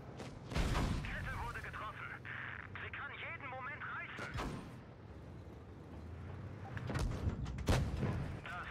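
Tank cannons fire in a tank battle video game, with a few sharp, heavy booms spread apart over a steady rumble and faint voice chatter.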